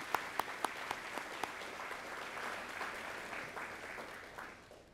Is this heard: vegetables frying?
no